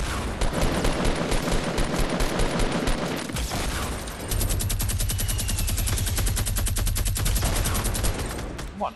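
Constant Fortnite gunfire during a battle royale firefight, including minigun fire: dense rapid bursts run almost without pause, loud and close, with a steady heavy stream in the second half.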